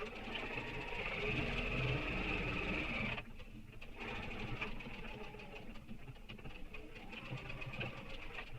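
A sewing machine stitches backpack lining with a zipper foot, running in a loud, steady whir that briefly dips near the middle and resumes while a person talks over it.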